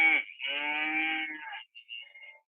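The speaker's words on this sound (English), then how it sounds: "That's cattle." Cattle lowing in a single drawn-out moo with a rising, harmonic-rich tone, followed by a shorter, fainter second call, heard clearly with no talk.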